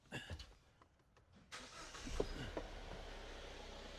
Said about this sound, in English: let's start the Jeep up